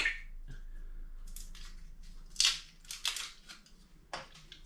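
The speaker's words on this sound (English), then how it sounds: "They're making a lovely cracking noise, these sweets, as they're beginning to expand with the heat." Cherry menthol hard sweets sitting in hot water give off scattered sharp cracks and small fizzing pops at irregular intervals, close and fairly quiet against a near-silent background.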